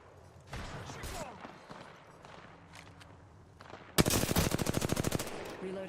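Automatic weapon fire in the battle royale shooter Apex Legends, a loud rapid burst of evenly spaced shots breaking out partway through after quieter in-game footsteps and ambience.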